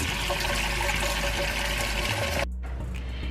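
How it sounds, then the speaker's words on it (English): A cooking pot fills with water for a Mexican beef stew, a loud steady rushing stream that cuts off abruptly near the end, leaving a quieter hiss. "First thing we're going to do is fill up our pot with some water"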